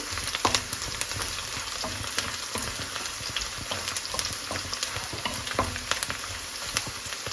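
Dried red chillies fry in hot oil for a bitter gourd pickle, with a steady crackling sizzle and occasional stirring clicks, moderately quiet and close.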